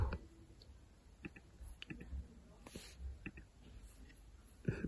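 Scattered sharp clicks of a computer mouse on a Mac running the macOS Sonoma beta. They come in small irregular pairs and clusters over a faint background hum, close and fairly quiet, with no talking.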